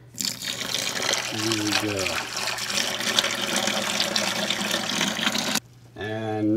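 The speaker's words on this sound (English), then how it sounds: "we're gonna pour some hot boiling water on top of it" Boiling water from a kettle pours steadily onto chili ingredients in a pot, a continuous splashing rush close by that stops briefly near the end, with a voice speaking over it.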